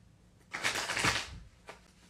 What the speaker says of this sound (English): Let me go ahead and get a good little shuffling real quick.